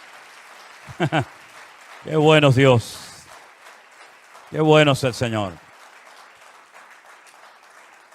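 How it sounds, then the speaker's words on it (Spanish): A church congregation applauds during a Spanish-language sermon, a soft steady clapping bed under a speaker's short spoken phrases, which stand out clearly above it. "Fuertes aplausos a nuestro Dios."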